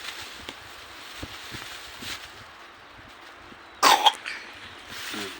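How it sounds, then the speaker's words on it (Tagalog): A child coughs once, sharply and close, after a stretch of quiet room noise with faint taps and rustles. "Puro ubo ka na."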